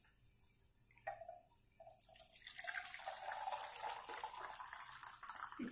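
Liquid poured off from three-litre glass jars of marinated tomatoes with sweet pepper, a quiet start with a few trickles, then a steady splashing pour that runs continuously to the end.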